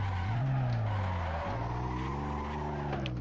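A Toyota Supra drifting in Assetto Corsa at Highland, its engine droning loud and steady beneath continuous squealing, skidding tires, with a brief dip in pitch midway as it shifts.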